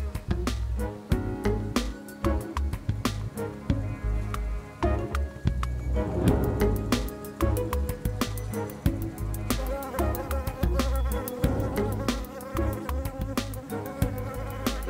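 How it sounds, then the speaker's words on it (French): Mediterranean black bees buzz around hives in the Provence countryside, a dense continuous drone of many insects close by with a faint ticking texture. "nous montrerait les abeilles."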